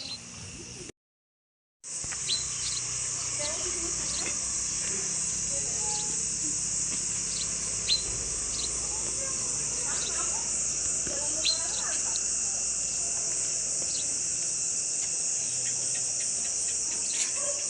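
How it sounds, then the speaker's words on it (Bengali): A dense, unbroken chorus of crickets fills a morning in the hills of Arunachal Pradesh, shrill and constant after a brief gap near the start, with faint scattered bird chirps in the background. "চারিদিকে ঝিঝি পোকার ডাক"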